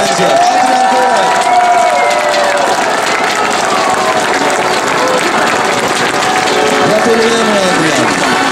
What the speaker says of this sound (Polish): Ja proszę o ogromne brawa i wiem, że tak będzie.